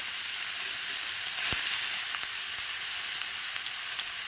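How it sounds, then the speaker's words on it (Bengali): Potatoes frying in hot oil in a home kitchen, a steady close sizzle and hiss throughout with a few small pops and spatters, no talking. "তেলটা গরম হয়ে গেছে, এর উপরতে আমি আলুটা দিয়ে ভেজে নেব।"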